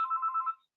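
A landline telephone rings once, a brief warbling electronic trill close by that cuts off after under a second, with nothing else heard.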